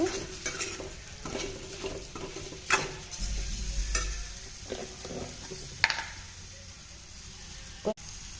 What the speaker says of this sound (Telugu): ఇప్పుడు ఈ కారం ఇంకా ఉల్లిపాయ మసాలా ఎగ్స్కి పట్టేంతసేపు ఒక 5 మినిట్స్ అలా కలుపుతూ ఉండాలి